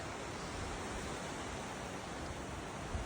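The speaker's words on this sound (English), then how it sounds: "I hear moving water." Steady rushing water from a waterfall along the snowy Alberta Falls hike, a constant broad hiss that sounds fairly distant and quiet with no talking.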